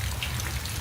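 Rain falls as a steady, dense patter of drops in a radio drama sound effect. It is loud and close throughout the short stretch, and no voices are heard.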